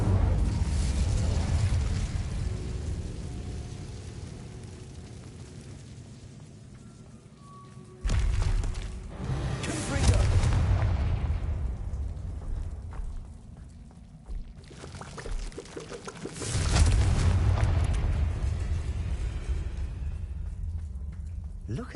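A fiery Incendio spell blast erupts in Hogwarts Legacy, a sudden loud low whooshing burst that swells and rolls over continuous game ambience, followed by a second surge later on; people talk intermittently.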